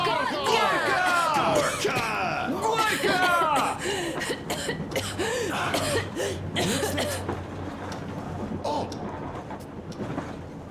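A character in Metro Exodus coughs in a harsh, repeated fit amid shouting voices and a rumbling train, with several people talking urgently over the commotion.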